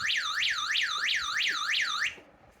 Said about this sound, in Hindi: इसकी अलार्म की आवाज़ इसकी बहुत अच्छी है।